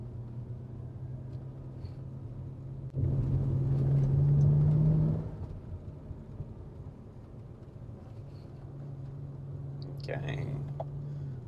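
BMW E92 335i with the twin-turbo N54 engine pulling hard in second gear under manual shifting, a loud droning engine note swelling for about two seconds then easing back to a steady cabin rumble, with a brief voice late on.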